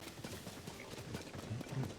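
Heavy clip-clopping hooves of a big horse in Legend of Zelda: Tears of the Kingdom, a steady run of soft thudding steps over a continuous game background with no talk.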